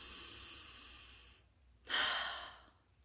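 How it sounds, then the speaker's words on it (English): A single deep breath, beginning as a soft, airy intake and ending in a fuller, louder exhale, heard close and alone with no talking. "So take a deep breath"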